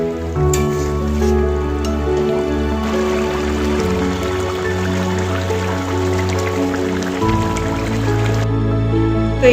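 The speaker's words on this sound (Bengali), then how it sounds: "এবার কিছুক্ষণ ফুটবে তারপর ঘি দিয়ে নামাবো" A pot of fish curry with fried fish pieces simmering at a rolling boil, giving a continuous dense bubbling and popping, close and steady, with a low hum underneath.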